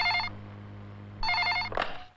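A telephone bell rings in two bursts in a tense indoor scene from an action film, loud and close over a low steady hum, with a short clatter as the second ring ends and no talk.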